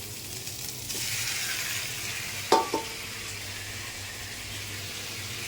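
Rohu fish drops into hot oil, and a broad sizzling hiss swells and holds steady, with a couple of knocks of a utensil against the pan.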